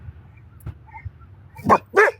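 A dog barking from a vehicle driving past, two sharp close barks near the end after faint low road rumble, no talking.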